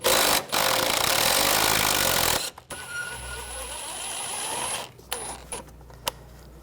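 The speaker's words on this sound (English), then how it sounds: "I'm going to use a 10mm socket." A 10mm socket on a ratchet works a bolt loose on a 2010-2014 Volkswagen GTI during a water pump job, giving a loud steady grinding rattle for about two seconds, then quieter scattered clicks and clanks.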